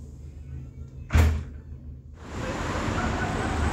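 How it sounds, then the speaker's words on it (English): A door shuts with a single sharp thud in a quiet room, followed by a steady, rushing background hum. "Close the door behind you."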